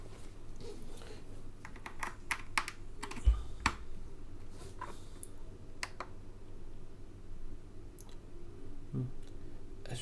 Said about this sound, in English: Alright, so let us test the keyboard.